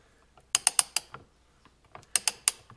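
A torque wrench ratchets on motorcycle engine bolts, including flywheel, pinion shaft and sprocket shaft bolts, in two quick bursts of four or five sharp, close clicks each.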